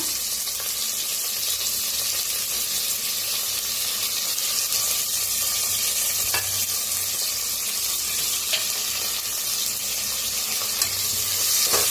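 Onion and curry leaves sizzle and fry steadily in a pan for spiced rice, a continuous dense hiss with occasional faint clinks of stirring and no talking.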